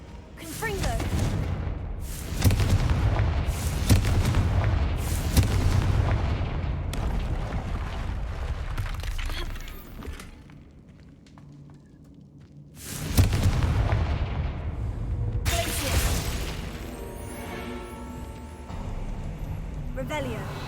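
Confringo blasting spells in Hogwarts Legacy, a series of loud booming explosions and bursts spread over the scene, with a quieter gap midway and someone talking over the combat.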